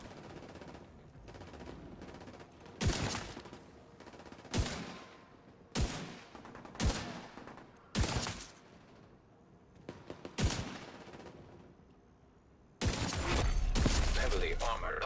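Repeated video-game gunfire: sharp, loud shots and bursts arriving every second or so, ending in a sustained heavy volley, with occasional talk in between.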